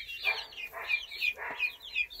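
Hens with chicks in a coop make soft repeated peeping and clucking calls in an irregular rhythm, close and fairly quiet, with no talking.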